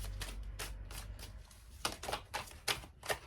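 Tarot cards are shuffled slowly by hand, giving a series of soft, papery riffles and taps spaced about every half second, clearer and louder toward the end, with no talking.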